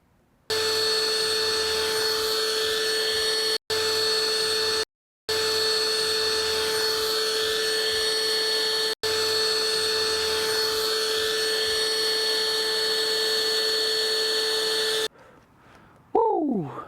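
An Intex Quick Fill 110 electric pump running in deflate mode gives a steady, loud, whining motor hum that cuts out briefly a few times, then stops, followed by a short exclamation from a voice.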